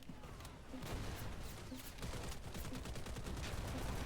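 Gunfire during a Wild Assault bot match: rapid bursts of automatic shots and scattered reports, fairly quiet and continuous, with faint in-game voices underneath.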